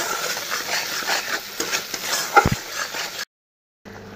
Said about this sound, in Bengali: জল দিয়ে আলু দিয়ে দেবো।